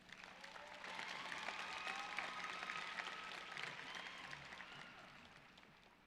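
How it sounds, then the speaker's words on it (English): Faint applause from a graduation ceremony crowd, a continuous patter of many hands swelling and then slowly tapering off, heard from a distance. "can we give her another round of applause?"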